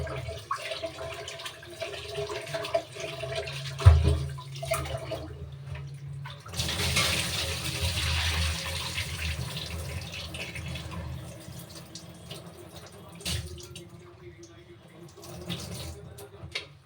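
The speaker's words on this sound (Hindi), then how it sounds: "बिल्कुल साफ़ पानी से ही मैं खाना धोती हूँ" Clean tap water runs steadily into a sink while food is washed by hand, the flow growing louder and fuller partway through, with someone talking over it.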